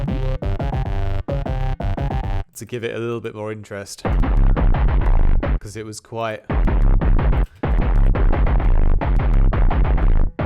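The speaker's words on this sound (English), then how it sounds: "the distortion really destroys that sound quite a lot, but it's like an intentional, like, destroying kind of bass arp" A heavily distorted industrial synth bass arpeggio for drum and bass pulses in a steady rhythm, loud and gritty, with someone talking over it.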